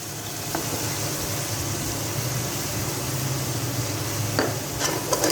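Minced meat (keema) frying with whole spices and onions in a pan, a steady close sizzle with a few stirring scrapes toward the end, no voices.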